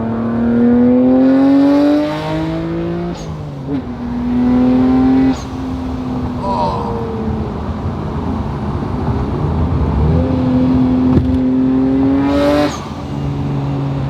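A Nissan Skyline R33 GT-R engine heard from inside while driving slowly, loud and close, with repeated revs that rise in pitch, drop briefly between gear changes, then climb again.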